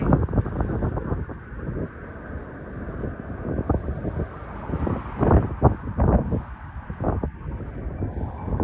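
Cold, strong wind at an English seaside in Southport rushes across the microphone in a continuous low roar, with uneven gusts and thumps rising and falling throughout.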